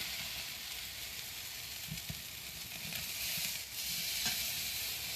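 Pork steaks sizzle on a Kamado Joe grill, a steady, bright hiss of frying fat with a few soft clicks and shifts as they settle, fairly close and with no talk over it.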